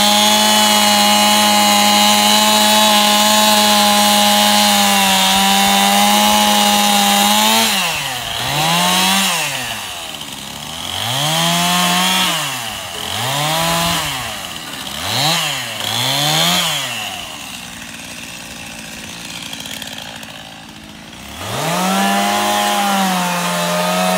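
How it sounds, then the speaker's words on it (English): Chainsaw trimming a wood stump for a live edge table base, loud and close: a steady idle, then repeated rising-and-falling revs as the chain bites in and backs off, returning to a steady high whine at the end. "Just give it a little trim with the chainsaw."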